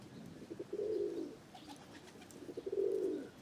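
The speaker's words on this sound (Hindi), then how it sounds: "तभी छत से कुछ कबूतरों के बोलने की आवाज़ें आईं।" Pigeons coo in low, throaty, warbling phrases, two distinct bouts separated by a short pause, close by and moderately loud.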